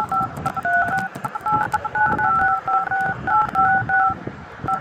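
A mobile phone keypad beeps out a number in a quick series of clear two-tone dialing pips, close and distinct, with rustling and movement underneath.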